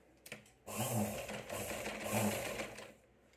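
A sewing machine stitches along the edge of a blouse in a quick, steady whirring burst of about two seconds, close and fairly loud, framed by brief handling clicks before and after.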